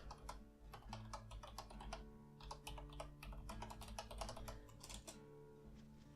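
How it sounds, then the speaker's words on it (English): Fast, irregular clacking of a computer keyboard as a command is typed in, close and clear, with bursts of keystrokes and short pauses over a faint steady hum. "I'm gonna type that in right now."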